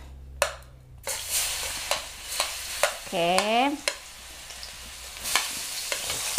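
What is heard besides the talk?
shallots and garlic frying in oil in a wok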